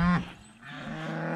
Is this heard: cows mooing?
yes